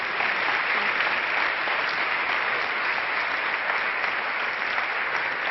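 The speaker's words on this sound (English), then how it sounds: "Big applause." Steady, dense applause from an award ceremony audience fills the room evenly and loudly, sustained without pause throughout.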